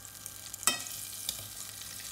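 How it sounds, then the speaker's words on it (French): Butter melts in a saucepan with a soft, steady sizzle, broken by a couple of sharp clinks and scrapes of a utensil against the pan; no one speaks. "Dans une casserole, donc je vais fondre le beurre"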